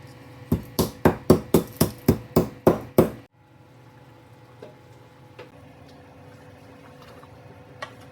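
Cardamom and ginger pounded in a kitchen, about nine sharp, evenly spaced thuds in quick succession, close and loud, followed by quiet room background.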